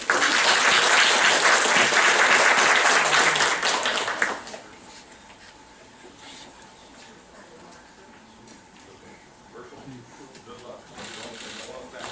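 Audience at a civic leadership forum applauds a speaker, loud dense clapping for about four seconds that cuts off sharply, followed by a quiet room with faint murmur and shuffling.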